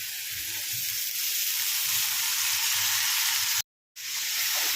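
Chopped broad beans frying in oil for a flat bean and green chilli curry give a steady, close, loud sizzle that runs throughout, broken once by a brief cut to silence.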